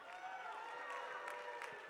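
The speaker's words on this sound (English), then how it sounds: "Let me hear you cheer for Israel." A large audience at a Republican Jewish Coalition event in Las Vegas cheers and applauds in a steady, dense wash of clapping and voices that holds at an even level throughout.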